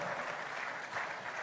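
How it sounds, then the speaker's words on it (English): An audience at an investment summit in Edo State claps, dense and steady applause filling the room without a break. "Please applaud."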